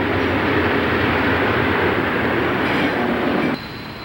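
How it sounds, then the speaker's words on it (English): A long freight train with a caboose, being shoved by its locomotive, rumbles steadily past at close range, a broad continuous roar of wheels and cars that drops off abruptly near the end. "shoving the train with a caboose, going to Swatara to be loaded"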